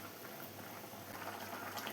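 Prawn curry simmering and reducing in an open pan, a faint, steady bubbling and hiss that carries on without a break.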